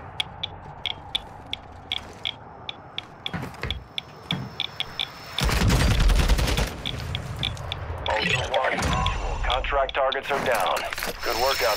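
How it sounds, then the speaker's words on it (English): Gunfire in Call of Duty DMZ: sharp single shots tick at intervals, then a dense burst of rapid automatic fire and mechanical clatter, with someone talking over parts of it. "This boss is shooting at something."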